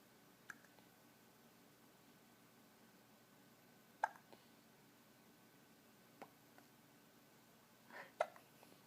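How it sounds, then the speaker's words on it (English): A baby's hiccups come as a few short, soft isolated pops spread across a quiet room, including a closer pair near the end, with no talking. "Do you have the hiccups?"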